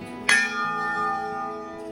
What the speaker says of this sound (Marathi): धारदेवी मंदिरचा घंटा वगैरे वाजवतो